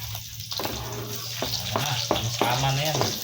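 Onion and garlic sizzling and frying in a pan for a home-cooked meal with corned beef and eggs, a steady crackling hiss close by with occasional stirring and a voice speaking over it.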